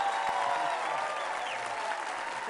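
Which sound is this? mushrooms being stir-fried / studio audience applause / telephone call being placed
studio audience applause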